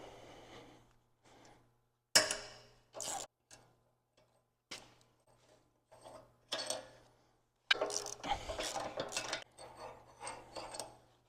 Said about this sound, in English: we are just going to take this valve apart